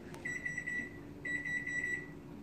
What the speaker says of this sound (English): I put the timer on 5 minutes